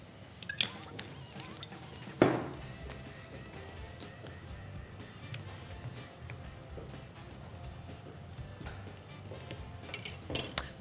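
Tofu cheese fries in a few drops of oil in a hot pan, giving a steady low sizzle throughout with a sharp clatter burst near the start and light scraping stirs.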